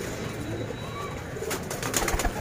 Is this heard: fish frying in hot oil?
no